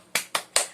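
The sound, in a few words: audience doing the 'tepuk semangat' clapping routine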